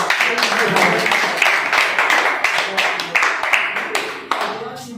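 An audience claps at a school's 15 August Independence Day celebration at Paradise Academy in Sadulla Nagar, Balrampur: a dense, continuous patter of many hands, fairly loud, with a voice carrying over it.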